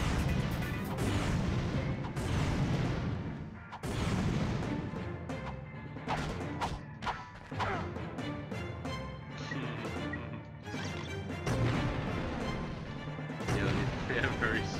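Rockets shot and blown up in the Ratchet and Clank: Going Commando video game, a dense, continuous barrage of booming blasts and crashing explosions layered with game effects, loud throughout with a voice talking over it.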